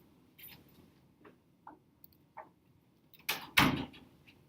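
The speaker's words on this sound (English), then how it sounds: "had to go shut my door" A door being shut in a room, with a few faint taps and shuffles followed by a sharp, close closing thud near the end.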